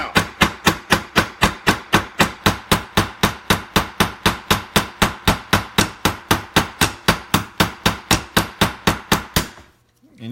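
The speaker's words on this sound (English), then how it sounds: "You want to use the round part of your hammer, not the flat, because you want to mushroom this thing out." A hammer's round face strikes steadily on pins being peened into the finger guard of a Loveless-style fixed-blade knife, about thirty sharp, evenly spaced metallic blows, loud and close, stopping abruptly near the end.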